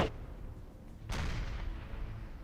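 Cannon artillery firing in Napoleon Total War, a sharp boom at the start and a second, heavier blast about a second later, followed by a rumbling low tail under battle ambience.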